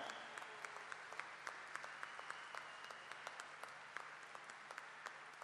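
Concert crowd at a 2014 Oporto show clapping for the drummer, an even, distant sheet of applause with scattered sharper claps, steady throughout and with no talking over it.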